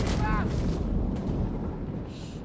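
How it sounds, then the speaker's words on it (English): Rockets and explosions in the WWII strategy game Company of Heroes 3, a dense rumbling barrage of booms with a whistling streak early on, under a commentator's talk. "A lot of rockets here, a lot of explosions."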